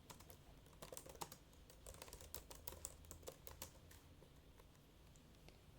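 Soft, steady computer keyboard typing in a quiet room, a continuous patter of close clicky keystrokes with occasional louder taps and no talking.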